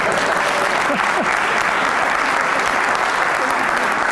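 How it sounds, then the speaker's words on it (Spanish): An audience applauds steadily and densely for the whole stretch, a thick wash of many hands with a few faint voices mixed in. "Aplaudirle, ¿eh?"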